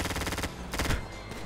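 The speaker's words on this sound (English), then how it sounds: "Oh, they're shooting." Rapid gunfire from a GTA 5 street shootout rattles close and loud for a moment, a burst of shots followed by a heavier crack, over car and game background noise.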